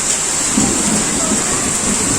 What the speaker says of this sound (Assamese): বৰষুণে হৈ গৈছে পুৰা